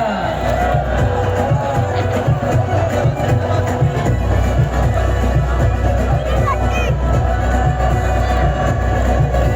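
A large crowd cheers and applauds for a Bollywood actor at an event in Thane, a dense, loud wash of claps, whoops and babble, with amplified voices speaking over it throughout.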